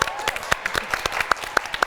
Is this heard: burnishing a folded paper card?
no